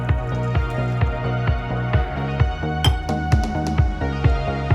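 Half a glass of water pours into chicken in a pot for dum biryani, a close, rhythmic run of glugging, splashing pulses that stays steady throughout.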